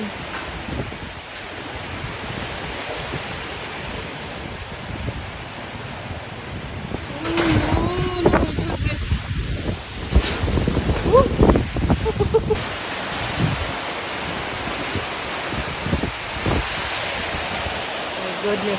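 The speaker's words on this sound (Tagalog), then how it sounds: "pakinggan nyo ang lakas ng hangin" Strong typhoon wind roars and buffets against the microphone in gusts, with a person talking intermittently and a bird cooing faintly.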